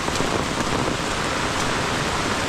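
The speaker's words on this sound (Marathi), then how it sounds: "कारण आज सकाळपासून पाऊस कंटिन्यू चालू आहे." Heavy monsoon rain pours down in Konkan, near Khed in Ratnagiri, by a flooded river, a dense, loud, unbroken hiss of rainfall filling the whole clip.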